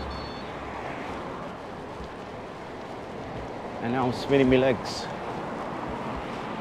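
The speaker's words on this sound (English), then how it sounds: "Slightly windy." Steady wind rushes against the microphone on a bicycle hill climb, broad and constant, while a person speaks briefly partway through.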